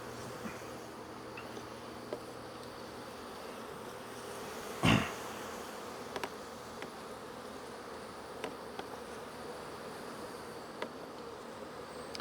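Honeybees buzzing around hive boxes during a honey harvest, a constant moderate hum with a sharp knock midway and scattered small clicks.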